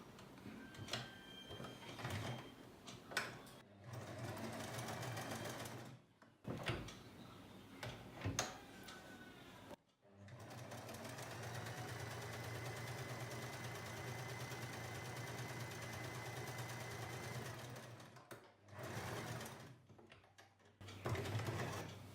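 A sewing machine stitches a button tab for a churidar or kurti sleeve, running in several steady mechanical bursts, the longest about eight seconds, separated by short pauses, close and moderately loud with no talking.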